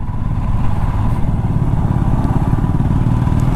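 A motorcycle chugs slowly along an icy mountain road on the way to Auli, its engine thumping low and steady close by, with no voices over it.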